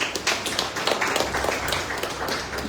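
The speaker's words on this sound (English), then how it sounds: "I want all of you to clap hands for Jesus." Congregation clapping hands together during a Sunday evening church retreat in Goa, a dense, steady patter of many hands close by, continuing without pause.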